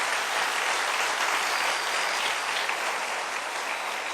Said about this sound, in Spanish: Démosle otro aplauso al Rey para que no se quede con las ganas.